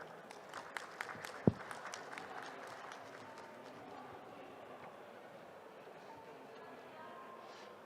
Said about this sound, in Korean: 따뜻한 박수와 함께 아크론 에코를 맞이해 주시길 바라겠습니다.